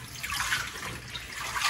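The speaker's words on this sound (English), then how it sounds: "I'm just gonna give this a good dip, and I'm just gonna rinse off any dirt" Jewelweed stems and leaves are dipped and swished in water to rinse off dirt, giving a close, steady splashing trickle that swells slightly toward the end.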